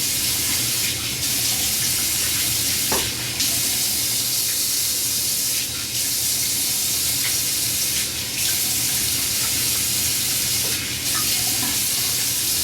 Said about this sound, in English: Rinse off with warm water.